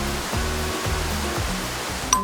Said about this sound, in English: there's another waterfall through there.